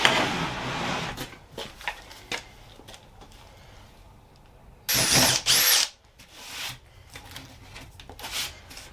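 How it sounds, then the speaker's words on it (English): Drill boring a hole in wood at a woodworking bench with a track saw fence, one short loud burst of about a second amid quiet shop handling noises. "So I'm gonna drill a hole here"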